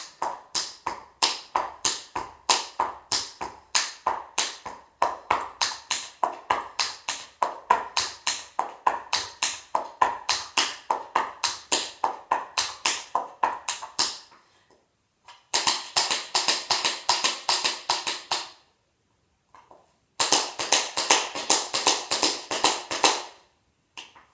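Tap dance steps with heel taps performed without music in a dance school warm-up: crisp, rapid rhythmic metal taps in a steady run for about fourteen seconds, then two more bursts after short pauses, close and loud.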